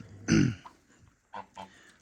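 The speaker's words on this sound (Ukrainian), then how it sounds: "Залишилось три гуски." Geese honk nearby: one loud honk, then two shorter calls after a pause, with quiet between.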